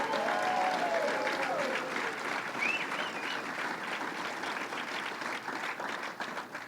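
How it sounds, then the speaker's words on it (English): Steady crowd applause fills a public announcement event, a dense, continuous wash of clapping that holds for several seconds and tapers slightly near the end. "Let's give him a round of applause."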